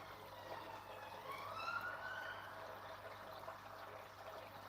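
A faint, distant ambulance siren wails and rises and falls once over soft background noise and trickling aquarium water.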